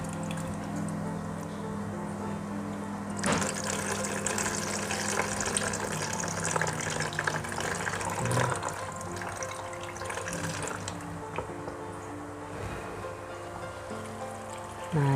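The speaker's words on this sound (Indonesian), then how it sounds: "sekalian kita menyiram seperti ini" Water pours steadily into a moth orchid pot for several seconds, a soft splashing flow that starts abruptly, continues evenly and then tapers off.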